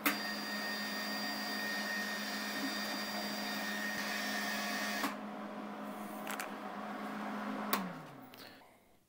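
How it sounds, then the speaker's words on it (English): A Hobart 210MVP MIG welder feeds solid wire while the trigger is held, giving a steady close whine and hum that stops abruptly, then a few clicks follow and the motor winds down. "Then I just pull the trigger until the wire comes out"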